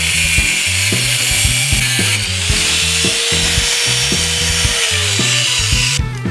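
An angle grinder's cutoff wheel slices through the steel hex head of a lag bolt set in a wooden pick stick, a loud, steady high-pitched shriek with a low motor hum and slight shifts in pitch as the wheel bites, no talking.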